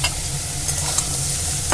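Jackfruit and fried potato pieces are stirred together in a hot pan, giving a steady close sizzle with a few scraping strokes of the spatula and no talking.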